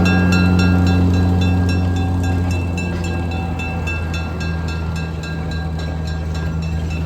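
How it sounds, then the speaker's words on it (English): Steady low engine drone of a small Plymouth locomotive hauling cars, with rhythmic clanking and rolling noise close by, gradually easing slightly in loudness. "the little Plymouth locomotive is pulling the whole train"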